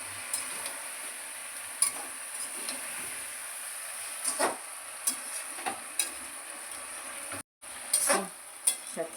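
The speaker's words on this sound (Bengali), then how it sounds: "বেগুন দিয়ে এর সঙ্গে সব কিছু ভেজে নেবো" Eggplant and mixed vegetables fry in a pan with a faint, continuous sizzle, broken by soft scrapes and light clinks as the pieces are stirred now and then.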